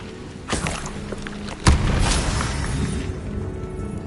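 A Confringo spell blast in Hogwarts Legacy lands as a sharp, loud boom with a heavy thud, preceded by a smaller burst and followed by a lingering rumble that fades out.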